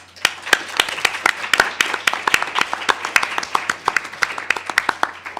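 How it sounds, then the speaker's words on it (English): A room of people clapping, with dense overlapping claps continuing steadily and loudly throughout. "a great round of applause, please"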